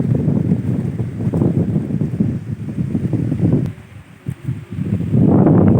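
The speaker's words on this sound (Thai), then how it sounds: "ลมกระชากมาแต่ละที" Gusting wind while a Thai chula kite is flown outdoors, with loud rushing surges buffeting the microphone, briefly dropping near the middle before picking up strongly again.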